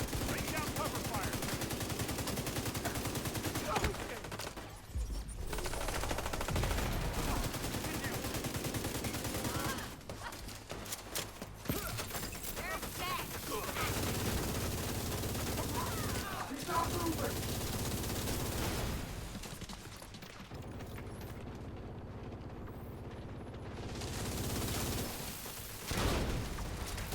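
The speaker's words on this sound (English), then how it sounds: "Having a little minigun fun." A minigun fires in the shooter video game The Division 2, with sustained, loud streams of rapid gunfire that stop for brief gaps and resume, and a player talks over the gunfire at times.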